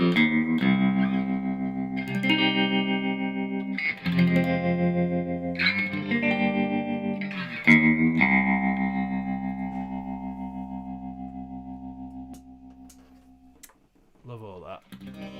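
An electric guitar runs through an amp set to 15 watts, with heavy distortion and chorus-like effects and reverb. It plays loud chords and ringing notes that sustain and fade, and there is a short burst of noise at the end.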